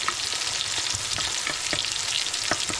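Onions frying in a pan until browned, a dense close sizzle punctuated by quick, repeated stirring scrapes, loud and continuous with no talk.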